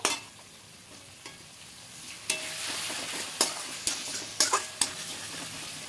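Spiced masala sizzles loudly in a pan as a little water goes in, bursting into sharper hissing spurts partway through, with occasional spoon scrapes and clinks against the pan, no talking.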